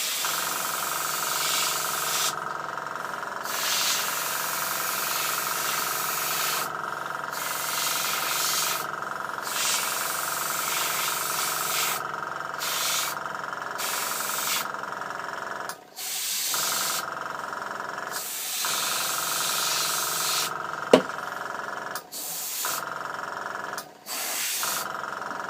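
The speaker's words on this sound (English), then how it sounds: "as my compressor starts kicking in and out" Steady, loud hissing spray runs nearly throughout, broken by several short gaps where it cuts off and restarts, consistent with an air compressor kicking in and out during the final stage of a Bluebird K7 model build; a single sharp click stands out.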